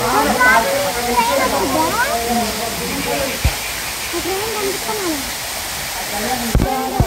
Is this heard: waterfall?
yes